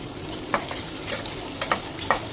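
Paneer cubes sizzle in hot oil in a pan over a low flame, a steady soft frying hiss broken by a few light scraping stirs, close and alone without talk.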